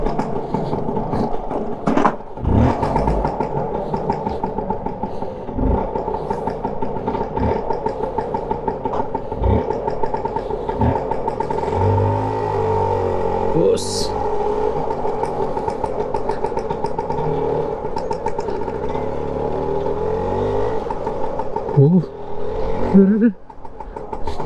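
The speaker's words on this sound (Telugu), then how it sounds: "నాకైతే ఆల్మోస్ట్ ఆటో సౌండ్ లాగా అనిపిస్తుంది." Steady mid-pitched drone of a vintage 1983 Allwyn Pushpak 150cc two-stroke scooter engine while riding, close and continuous with a rattly, auto-rickshaw-like tone, rising and falling slightly with throttle, occasional knocks and brief voices over it.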